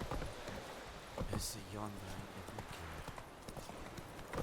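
Horse hooves clip-clopping at a steady walking pace in The Witcher 3: Wild Hunt, fairly quiet and close, with someone talking over them.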